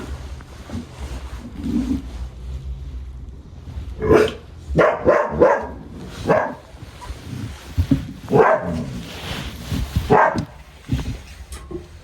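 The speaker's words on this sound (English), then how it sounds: "Why are you barking at me for" A dog barks in a series of sharp, close barks in uneven bursts, some in quick clusters with short pauses between, over a quiet room background without talk.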